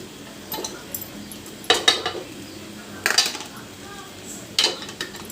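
Chicken added and stirred in a pan for chicken rice, a few distinct metallic clanks and scrapes of a spoon against the pan over a faint low sizzle, close and spaced apart.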